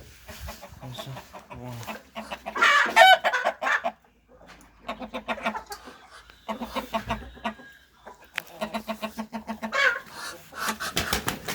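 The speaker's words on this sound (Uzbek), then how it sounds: "ikkita tovuq keldi" Chickens and a small rooster clucking near a backyard coop, with repeated bursts of clucks and squawks separated by short pauses.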